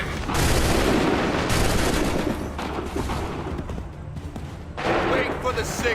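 Dense, continuous gunfire from many weapons erupts in an Assassin's Creed 3 battle scene, a loud sustained fusillade with shouted voices mixed in.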